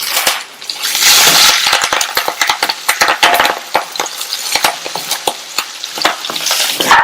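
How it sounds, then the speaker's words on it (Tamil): Curry leaves and cut green chillies hit hot oil with garlic paste, a loud bright sizzle and spatter with rapid clacking stirs of a ladle against the pan, busy and close throughout. "அடுத்து கறிவேப்பிலை, 2 கட் பண்ண பச்சை மிளகாய் சேர்க்கிறேன்."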